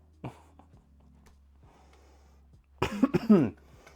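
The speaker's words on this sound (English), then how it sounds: "I do apologise for all the sniffing and coughing I'm doing." A single short cough near the start, then a louder burst of coughing and a wet sniff close to the mic, with quiet room hum between.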